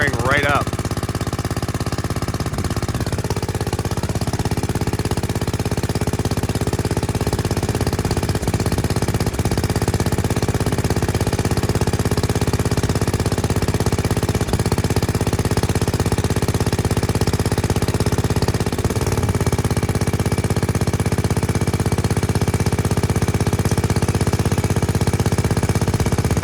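The carbureted engine of a 1970s Commuter three-wheeler, freshly revived after carburetor work, fires up and runs. A steady, close, rough idle chugs on without letting up, with a voice speaking over it at times.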